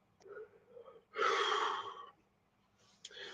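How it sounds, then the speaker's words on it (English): A person gives one long, breathy yawn that swells loudly and then fades, with softer breathy sounds before and after. "will I not stop yawning right now?"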